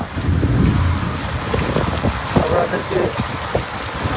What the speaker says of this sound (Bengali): আর এখন যে পরিমাণ বৃষ্টি হচ্ছে